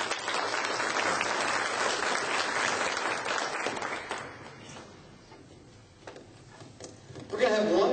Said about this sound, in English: let's have a round of applause one more time for your candidates